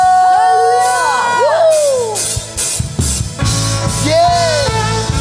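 A church congregation roars out cheers of hallelujah during a worship service, loud crowd shouts and whoops rising in waves, with a voice leading over the noise.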